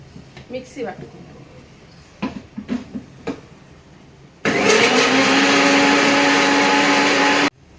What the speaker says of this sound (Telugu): వేసి మిక్సీ పట్టుకున్నాం.